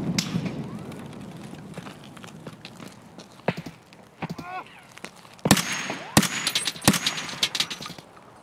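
Gunfire in Escape from Tarkov, several sharp distant-to-mid cracks scattered among footsteps and shuffling, growing louder toward the end.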